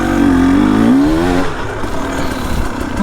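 HengJian Z300 S7 two-stroke motorcycle engine revving hard close by, its pitch climbing under throttle and then dropping into a rough, buzzing idle.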